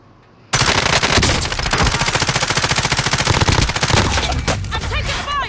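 Sustained rapid automatic gunfire in Cold War Warzone on Alcatraz, loud and close, bursting in abruptly after a brief quiet moment and rattling continuously, with tinkling shell casings near the end.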